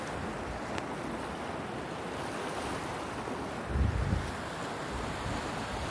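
Ocean surf washes steadily onto a rocky beach, a continuous close rush of water and wind with one brief louder surge midway; no one speaks.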